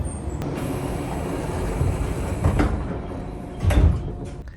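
A local train at Chayamachi station closes its doors and pulls away, bound for Okayama on the Uno Line, with a steady rumble of wheels and a couple of louder clunks near the end.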